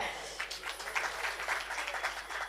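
Audience applause at a Marathi public lecture on women's social conditions, a steady wash of many hands clapping for the full stretch at moderate level.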